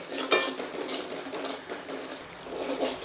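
Green spice paste being stirred and sautéed in a pan over a low flame while making a Nashik-style urad dish, with soft scraping and clinks of a spoon against the pan and a faint background sizzle.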